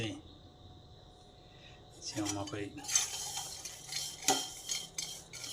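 Corn kernels roasting and being stirred in a karai pan, heard as repeated scraping and rattling clatter that starts after a quiet opening and continues with sharp metallic clinks.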